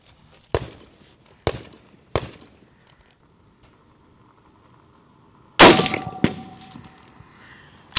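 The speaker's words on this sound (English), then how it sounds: "Let's go ahead and take our shot and see if that's any better." Shots from a lightweight AR-15 rifle at an outdoor range: five sharp, loud cracks, three spaced about a second apart, then after a pause a louder report followed quickly by another, each trailing off in a short ringing decay.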